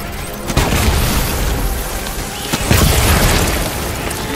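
Soldiers opening fire in the Death Stranding video game, a loud continuous barrage of gunfire and booming impacts with sharper bursts standing out through the dense roar.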